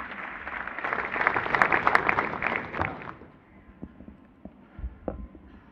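A crowd applauds to welcome Prime Minister Narendra Modi at a gathering with Indian athletes: a loud burst of clapping that swells, then fades after about three seconds, leaving a few scattered claps and faint room noise.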